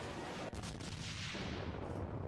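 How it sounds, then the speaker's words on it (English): A booming explosion in the VRChat video game, a loud dense rumbling blast that fills the whole clip with a sharp crack near the start and a sustained roar. "Explosion!"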